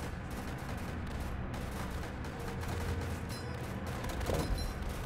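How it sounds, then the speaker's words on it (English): Dense, rumbling barrage of artillery strike explosions and rapid gunfire in the video game World War Tower Defense, a continuous loud battle din with a sharper burst near the end. "We get an artillery strike again, please."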